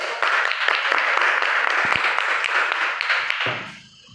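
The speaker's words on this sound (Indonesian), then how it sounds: "beri aplaus dulu untuk" A classroom of students applauds a student group, dense steady clapping for about three and a half seconds before quickly fading out.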